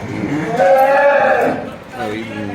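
A Jersey cow that calved that morning lets out one loud, drawn-out moo close by in a cattle shed, its call tapering into a softer, lower groan at the end.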